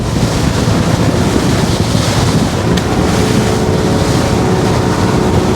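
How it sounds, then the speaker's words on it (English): Cruise Craft E695 boat crossing the bar at Lakes Entrance through surf, with steady loud wind buffeting and rushing water and waves around the hull, constant and close throughout. "water's coming through now, so I'm going to watch that flare off the bow of the boat and watch how it works its way through"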